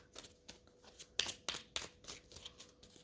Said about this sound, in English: I know you have to wait for the shuffling.